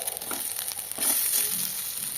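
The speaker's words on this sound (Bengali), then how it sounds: "বেগুলো আমার দু পেটি দেখুন ভাজা হয়ে গেছে" Eggplant slices frying in mustard oil in a kadai for a dhaba-style masala baigan, a steady close sizzle and crackle throughout that swells slightly partway through, with no talking.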